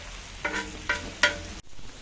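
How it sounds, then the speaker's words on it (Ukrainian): Potatoes sizzle quietly frying in a pan, with a few soft stirring scrapes at regular intervals and no talking. "Поки картопля смажиться"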